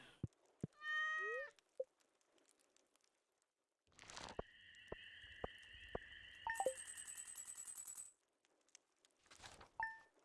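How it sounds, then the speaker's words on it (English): In the Stardew Valley video game, a cat gives a short, pitched meow early on, later followed by sparkling chimes and tones, with a second brief meow near the end. "Sorry I didn't pet you yesterday, kitty."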